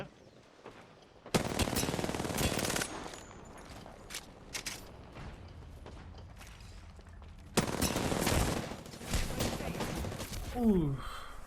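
Automatic gunfire from a weapon in the video game Apex Legends, two loud sustained bursts of rapid shots separated by scattered single shots and quieter game sounds, with a short breathy vocal sound near the end.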